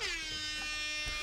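A single blast of an air horn sound effect, sustained, brassy and loud, hangs through a livestream for about a second before cutting off.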